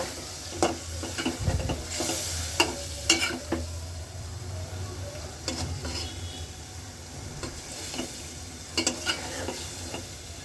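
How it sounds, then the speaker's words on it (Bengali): Fish bhuna sizzling quietly in a pan while a utensil stirs and scrapes, giving scattered clinks and knocks at irregular intervals over a soft frying hiss, with no voices. "এখানে আমি মাছ ভুনা করে নিচ্ছি আমার বরের জন্য।"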